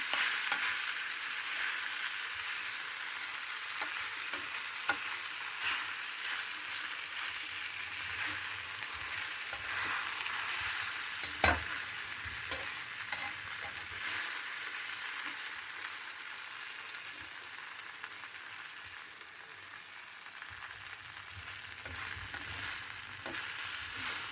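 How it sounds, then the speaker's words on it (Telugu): Sabudana khichdi with salt, chili and spices sizzles steadily in a pan while being stirred, a soft continuous frying hiss with occasional light scrapes and one sharper clink of a utensil, and nobody speaks. "ఉప్పు, కారము, ఇవంతా మసాలాలు ఇవన్నీ బాగా సాబుదానా పట్టేట్టు బాగా కలుపుకోవాలి."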